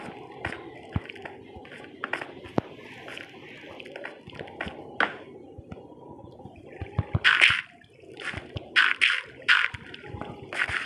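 Water flows in Minecraft, heard as a steady wet trickle under other game sounds, with brighter splashy bursts later on.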